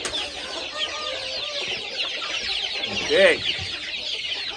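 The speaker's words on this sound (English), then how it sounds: "These are guinea fowl." Guinea fowl cluck among other poultry, with overlapping chattering calls and a louder squawk near the end, while a person briefly speaks nearby.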